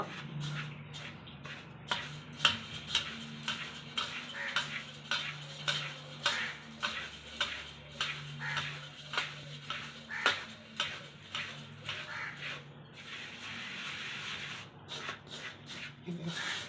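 Maida and atta flour being mixed by hand in a bowl for homemade phuchka dough, a steady run of soft rubbing, shuffling strokes with light clinks against the container, close and fairly quiet.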